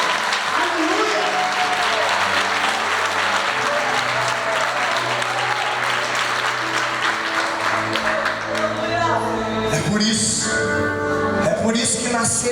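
A church congregation claps loudly and continuously at a Pentecostal service, the dense applause mixed with music and crowd voices, swelling and shifting near the end.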